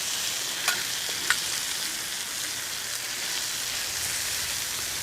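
Cheesesteak meat frying on a 28-inch Blackstone folding-leg griddle, a steady hissing sizzle throughout with a couple of sharp spatula clicks, close and alone.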